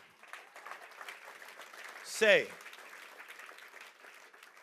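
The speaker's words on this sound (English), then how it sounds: "Clap your hands if you're learning." A church congregation claps its hands, a steady patter of many hands spread through the room beneath a preacher's voice. A brief loud vocal shout rises out of the crowd midway.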